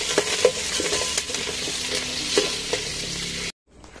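Tomatoes sizzling and sautéing in a pan with occasional scrapes and clinks of a stirring utensil, close up, ending abruptly in near silence.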